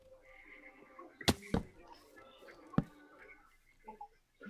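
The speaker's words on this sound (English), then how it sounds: "The arrow trap." Arrows from an arrow trap in Minecraft fire in sharp, close thwacks, two quick shots then a third after a pause, over a low game background.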